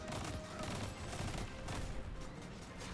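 Rapid gunfire in the Destiny first-person shooter during a Nightfall strike, a dense continuous clatter of shots and impacts mixed with game effects, steady and moderately loud.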